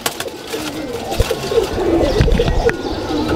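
Domestic pigeons kept in a loft coo in soft, repeated low murmurs amid light rustling and background noise, fairly close and steady throughout.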